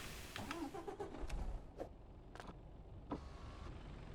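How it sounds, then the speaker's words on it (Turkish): A DAF truck engine starting in Euro Truck Simulator 2 gives a steady low mechanical rumble with a few sharp clicks and brief bursts over about four seconds. No talking. "Hemen şöyle aracımızı çalıştıralım."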